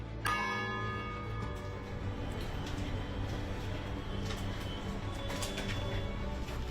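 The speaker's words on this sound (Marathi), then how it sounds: "दर पंधरा मिनिटांनी या घड्याळातून घंटानाद होतो" The clock bell of the 147-year-old Rajabai Tower, which chimes every fifteen minutes, rings with a strong struck tone that rings out and hums for several seconds, later strikes fainter beneath a steady ambient hum.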